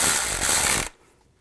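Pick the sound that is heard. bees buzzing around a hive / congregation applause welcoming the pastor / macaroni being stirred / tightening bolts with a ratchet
tightening bolts with a ratchet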